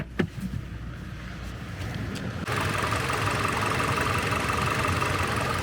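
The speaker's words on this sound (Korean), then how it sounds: "엔진의 진동도 특이사항이 없고 소음 수준도 양호합니다" A Hyundai LF Sonata 2.0 with about 50,000 km idles in its engine bay, a steady, even drone after a brief knock and clatter at the start, close and continuous with no talking.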